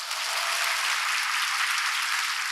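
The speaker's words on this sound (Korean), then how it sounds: "일상으로 잘 돌아오시라고 박수 한번 주세요." Steady applause from a lecture audience, a dense even wash of clapping that holds at full strength throughout with no voices over it.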